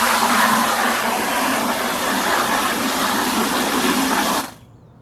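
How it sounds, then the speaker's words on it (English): A garden hose pours water into a 5-gallon bucket, a loud, steady, close gushing rush that holds evenly before cutting off abruptly near the end. "get a 5-gallon bucket, turn on our hose, and see how long it takes to fill it up"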